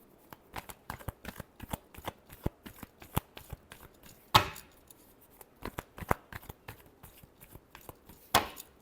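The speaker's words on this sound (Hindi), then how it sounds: "last shuffle" Tarot cards being shuffled by hand in a steady run of quick, crisp riffling flicks, close and clear with no talking, broken by two louder sharp snaps of the deck.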